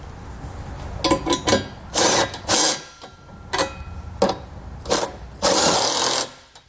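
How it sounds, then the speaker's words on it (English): A 19mm socket tightening trailer hitch hardware on a 2019 vehicle, heard as a series of short, loud bursts of ratcheting or power-tool whirring separated by brief pauses. "We're going to take a 19mm socket and tighten down all of our hardware."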